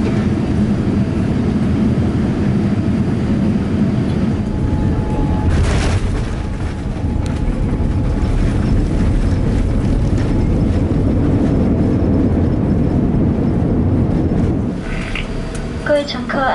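Cabin of a Scoot Boeing 787-9 Dreamliner touching down at Guangzhou, a loud continuous broadband roar of engines and rolling with a thump near the middle, while cabin announcements murmur faintly underneath.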